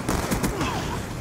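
Gunfire in the video game Black Ops II multiplayer, a short loud burst of sharp shots over dense game noise, close and harsh, with a brief voice-like tone in the mix.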